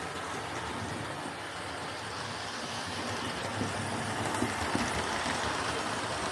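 A Dapol Hinton Manor model locomotive runs around its track, giving a steady, faint mechanical whirr and rolling rattle that stays even throughout, with no speech.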